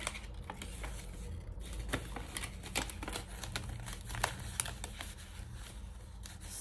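A paper budget envelope being prepared by hand, soft close rustling, tapping and crinkling in quick irregular bursts, quiet and alone with no talking.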